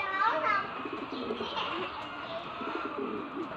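A Taiwan bird coos softly in a few repeated low calls, close by, while someone talks over it.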